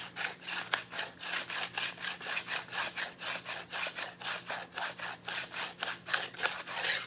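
Steel file rasping a painted chainsaw chain in a garage, a steady run of rhythmic strokes about three per second, close and moderately loud, with no voices.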